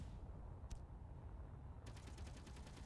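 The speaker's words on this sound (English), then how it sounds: "And the turrets should open fire." Gatling gun turrets opening fire in the space game Space Engineers, a rapid rhythmic burst of repeated shots that starts after a quiet stretch with one earlier short crack, heard over a low background rumble.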